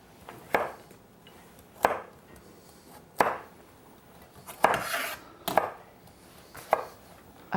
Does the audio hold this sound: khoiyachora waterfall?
no